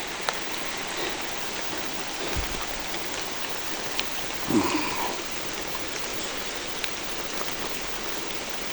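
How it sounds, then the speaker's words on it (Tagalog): Heavy rain falls outdoors in a steady, dense hiss of drops on surfaces, loud and continuous throughout with a few brief louder splashes, and no talking. "Lumakas ang ulan"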